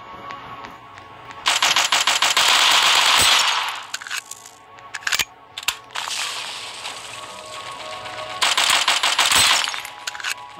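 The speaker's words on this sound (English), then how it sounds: "the AK I use for a ranged weapon and the MP40 kind of shreds people up close" Video game gunfire from an AK rifle and an MP40 submachine gun in a one-on-one free-for-all match, heard as two long rapid bursts and a few scattered shots, loud and close.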